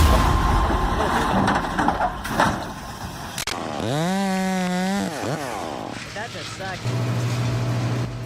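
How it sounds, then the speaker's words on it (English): A large chainsaw cuts into a big tree beside a house, its engine whining at high revs close by amid mechanical clatter and cutting noise, then dropping back to idle. "the roar of chainsaws and swirling sawdust fill the air"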